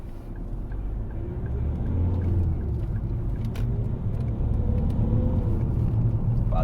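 Ford Mondeo diesel with a variable vane turbo running, a steady low engine rumble and drone held evenly throughout, close and continuous with no talk.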